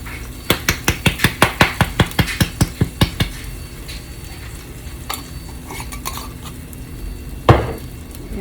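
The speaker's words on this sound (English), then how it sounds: "I'm gonna give it a stir." Spices sizzling in a hot pan for chickpea tikka masala are stirred briskly, a rapid run of about a dozen sharp spoon-on-pan scrapes over a soft sizzle, then slower occasional knocks and one final louder clank.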